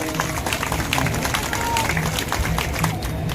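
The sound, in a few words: audience applause at a religious gathering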